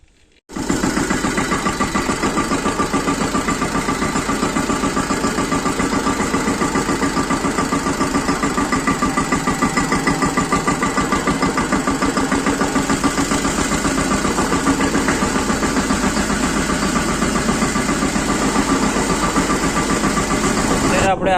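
A farm tractor's engine starts and then idles steadily with a low, even rumble close by, people talking over it now and then.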